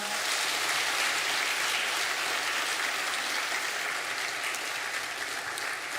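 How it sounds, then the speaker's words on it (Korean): A church congregation applauds during a Sunday worship service after a blessing prayer for a son and his family, producing an even, sustained wash of clapping at moderate level from start to finish. "박수하겠습니다."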